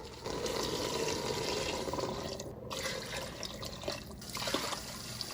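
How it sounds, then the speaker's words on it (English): Beef stock poured over pinto beans and ham hocks in a pot, a steady close liquid pour with splashing and trickling that runs for several seconds. "We're gonna cover this whole thing in beef stock."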